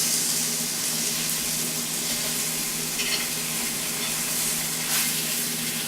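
Chicken pieces sizzle steadily in a hot pan while being stirred and moved around, a continuous close frying hiss with faint scraping, no talking.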